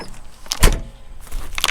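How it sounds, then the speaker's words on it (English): A vehicle door on farm equipment thuds shut once, close and loud, with faint rattles and clicks before and after it. "oh, that door didn't shut."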